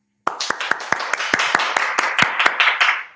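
Spontaneous applause from a studio audience on a talk show, starting abruptly after a moment of silence and building into a steady run of close, sharp handclaps that grows fuller toward the end, with no voices over it.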